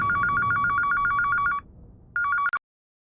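A telephone bell rings loudly in rapid repeated trills for about a second and a half. It falls silent, then rings again briefly before cutting off, with no talking.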